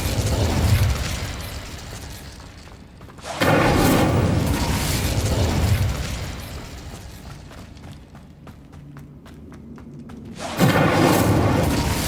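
Incendio fire spell cast in the Hogwarts Legacy video game, heard as loud whooshing bursts of flame, one at the start and another around three and a half seconds, a third near the end, with crackling and clicking between.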